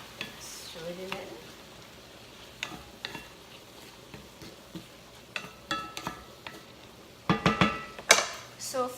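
Salt and black pepper are stirred into a shrimp pasta sauce in a pan: scattered soft scrapes and clinks over a faint sizzle, with a quick burst of louder stirring strokes near the end.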